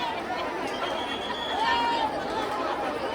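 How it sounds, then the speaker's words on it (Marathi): A dense crowd of devotees gathered for mahaprasad at the samadhi festival of Shri Moraya Gosavi Maharaj, a steady wash of overlapping chatter and babble with no single voice standing out. "महाप्रसादासाठी झालेली ही गर्दी पहा"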